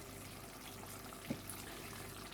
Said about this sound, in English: So I just wash it with cold water and salt.